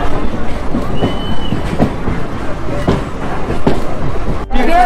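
Local train running on rails from Sealdah toward Diamond Harbour, a loud rumbling ride with rhythmic wheel clacks and a brief metallic squeal, heard from inside the carriage.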